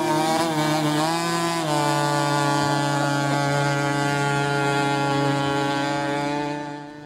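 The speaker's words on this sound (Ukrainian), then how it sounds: "гуркіт двигуна і вперед." A racing powerboat engine roars steadily at close range, a loud droning hum with a rising shift early on, then fading slightly at the end.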